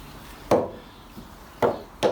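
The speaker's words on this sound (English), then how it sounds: "they're just dead handy for knocking all your bearings into position." Three sharp metallic knocks ring out at uneven intervals as a seal driver is hammered to knock wheel bearings into position, each with a brief resonant ring.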